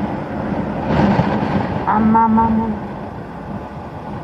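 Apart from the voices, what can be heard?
strong wind blowing while riding a motorbike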